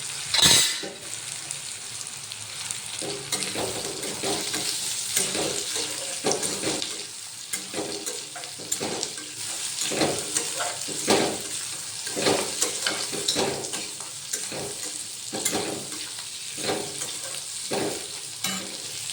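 Bitter gourd pieces, tender and deseeded, fry in hot oil for a home-cooked sabzi. A steady, close crackling sizzle runs the whole time, with occasional stirring scrapes and clinks against the pan and no talking.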